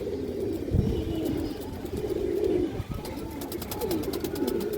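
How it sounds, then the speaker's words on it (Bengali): High flyer pigeons in a coop cooing in low, throaty repeated coos close by, with light fluttering and rustling, no talking. "হাই ফ্লায়ার কবুতর দর্শক"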